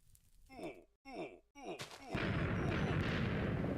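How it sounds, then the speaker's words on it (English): Minecraft TNT explodes in the game: a couple of short booming hits followed by a loud sustained rumbling blast that fills the final stretch. "plant TNT in this place. Will that light on fire and, like, explode?"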